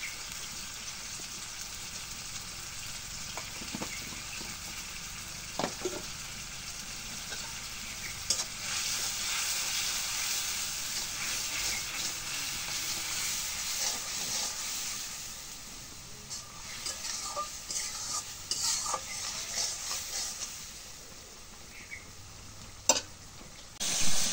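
A spice paste with turmeric and chili powder fries and is stirred in a pan, giving a steady close sizzle with scraping strokes that rise and fade over a long stretch, with no talking.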